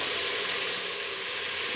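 Mixed vegetables frying in a pan for sambar: a steady, loud, even hiss of sizzling oil running unbroken and close, with no talk.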